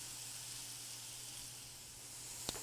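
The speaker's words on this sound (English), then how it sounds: "let those leeks saute till they're really nice and soft" Leeks softening in a pan with a pinch of salt give a faint, even sizzle that runs steadily throughout, broken by one short clink near the end, with no talking.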